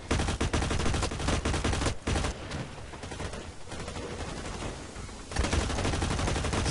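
Sustained automatic gunfire in the Blacklight: Retribution shooter game, dense rapid bursts close and loud, briefly thinning in the middle before the firing picks up again, with no talking.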